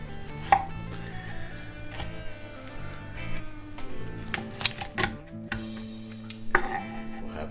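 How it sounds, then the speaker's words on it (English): Knife and blade work cutting the wings off a spatchcocked chicken cooked in cast iron, with a series of sharp, close chopping and crunching strikes spread across the clip, no talking. "If you want to be really fancy, you can cut off the wings."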